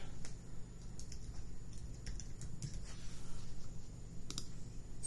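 Small, quick mouse clicks while setting up a website, scattered across a steady background hum, faint and close.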